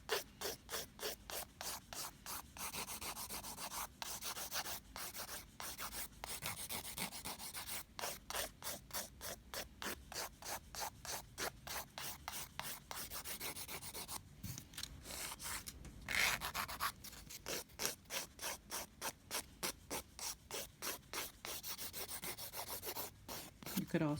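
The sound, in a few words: lightly filing and smoothing NSI PolyPaste nail product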